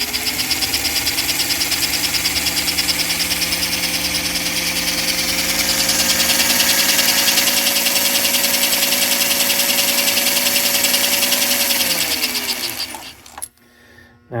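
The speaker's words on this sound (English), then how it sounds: "the sound that the motor's making is sweet music to my ears" The small electric motor of a refreshed 1952 #342 switcher model locomotive whirs continuously with a steady buzzing hum and slight pitch shifts, then winds down and stops near the end, close and alone.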